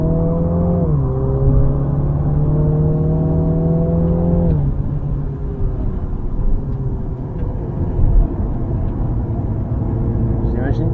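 A Mini's engine drones loud and close on the Zolder race track during a trackday, its pitch dipping after a downshift, then settling into a rough, wind-blown roar.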